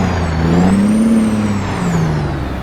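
A truck's engine hums close and loud, its pitch climbing steadily and then easing back down as it runs through the gears, with no voices over it.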